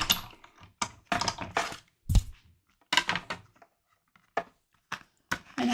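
A card with a leaf design is cranked through an embossing machine, producing irregular bursts of close mechanical clunks, clicks and ratcheting separated by short quiet gaps.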